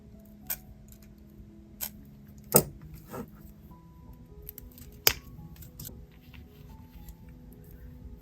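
Cutters snip a piece of silver-toned 22 gauge jewelry wire, giving two sharp, close clicks with a few lighter taps and handling sounds in between over a quiet room.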